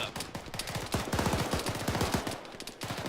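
Rapid automatic gunfire in a military video game, with sustained fast bursts of close, sharp shots that keep going with only brief pauses.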